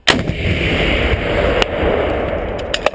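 A military gun fires during Swedish soldiers' training: a loud, dense blast that sustains as rolling rumble across the clip, with sharp cracks punctuating it near the end; no voices are heard.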